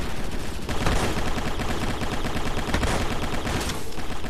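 Rapid automatic gunfire in the Microvolts shooter game, a dense continuous burst of loud close shots rattling without pause for several seconds.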